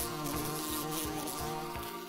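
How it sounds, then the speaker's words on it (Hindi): Bees buzzing in a close, steady drone with rhythmic wing pulses repeating through the whole stretch, no voices present. "क्या तुमने मधुमक्खियों की भिनभिनाहट सुनी है?"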